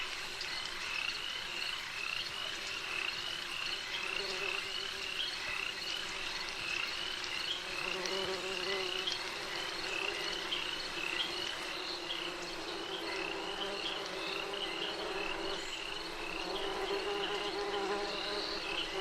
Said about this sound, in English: Sounds like I'm close to a hornet's nest or a beehive.